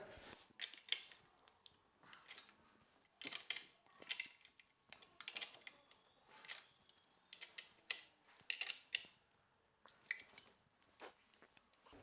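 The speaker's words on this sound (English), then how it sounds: "We're now going to check the lower axle bolts tight using 14 and 17 spanner." Spanners clicking and scraping against axle bolts on a FunBikes Xtrax Sport 125cc petrol junior quad bike, a series of sharp, irregular metallic ratcheting taps and clinks close by, without any talking.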